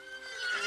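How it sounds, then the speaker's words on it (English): A horse lets out a short, high neigh that rises in loudness over under a second, heard fairly close against a soft steady background. "Nah, I heard a fucking horse."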